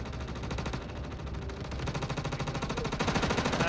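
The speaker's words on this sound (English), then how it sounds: "And there's a firefight underway" Rapid automatic gunfire from a firefight aboard a ship during an urgent boarding action in the video game Star Citizen, steady chattering bursts growing louder toward the end, with no talking.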